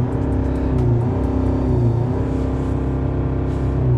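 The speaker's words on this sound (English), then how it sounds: "we keep on revving from idle to the red line couple of times" A Citroen C5 AirCross engine revving steadily near the microphone, a constant loud drone with slight rises and dips in pitch as it is held high, sounding alone.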